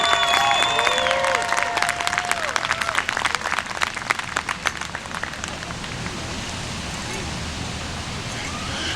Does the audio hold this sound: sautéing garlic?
no